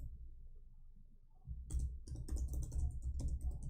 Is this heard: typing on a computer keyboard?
yes